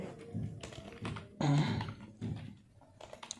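Keys tapped on a computer keyboard while HTML formatting tags are entered, coming in short separate bursts of close clicks with brief pauses between them and one louder cluster near the middle.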